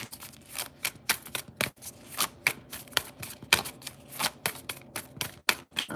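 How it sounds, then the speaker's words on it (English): Tarot cards shuffled by hand, a close, steady series of quick riffling flutters and soft slaps repeating rhythmically. "I want to shuffle. I'm being told to shuffle."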